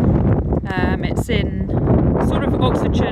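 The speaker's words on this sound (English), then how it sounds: "As you can hear, it's really, really windy today," Gusty wind buffets and rumbles against the microphone while a person talks through it.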